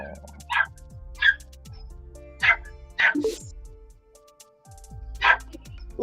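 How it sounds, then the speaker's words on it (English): Dogs barking in short, sharp bursts, about half a dozen separate yaps spaced irregularly over a low background hum. "We're kind of overtaken by the barking dogs"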